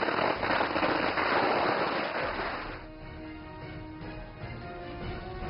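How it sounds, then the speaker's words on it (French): A dense, crackling burst of rapid firecracker pops at a Chinese dragon boat race rattles for a few seconds, then thins into scattered distant crackles. "Les pétards!"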